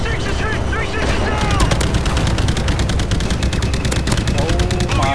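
Call of Duty Infinite Warfare gunfire in the Jackal Assault VR mission, rapid machine-gun bursts and booming shots in dense sustained volleys, loud and close, with excited voices shouting over the battle.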